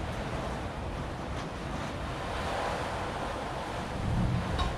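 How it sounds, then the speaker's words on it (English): Strong wind roars outside during a thunderstorm, a steady, rushing blustery noise with gusts swelling and easing, close to the microphone and with no talk over it. "It's incredibly windy outside"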